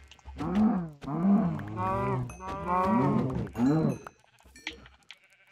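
Cows moo in a run of drawn-out, wavering calls, loud and close, one after another, each low and throaty with rising and falling pitch, before a quieter stretch at the end.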